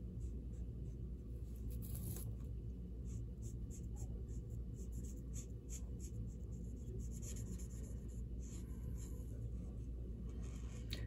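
Continuous soft scratchy strokes of a marker across paper, steady and close, with a low background hum.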